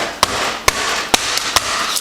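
Sharp, heavy pounding strikes on a hard surface as fried plantains are flattened on a counter, about five evenly spaced hits over a couple of seconds, close and loud with no talking.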